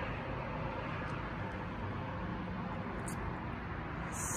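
Continuous road traffic beside a home patio, a dense steady rumble and hiss of passing vehicles with a few faint high clicks near the end, no talking.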